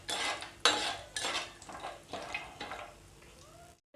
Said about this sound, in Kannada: ಫ್ರೈ ಮಾಡ್ಕೊಳ್ಳೋಣ ಸರಿಯಾಗಿ.